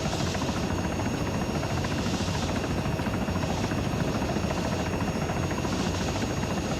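Helicopter in the ArmA 3 video game with its advanced flight model, a steady droning rotor whine with a pulsing beat, loud and continuous with no talk.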